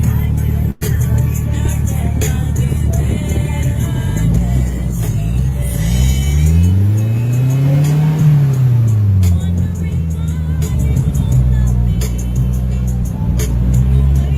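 Car engine in a passing or revving vehicle, a rumbling drone that rises and falls in pitch in one broad sweep around the middle, steady road noise throughout with a sharp click near the start.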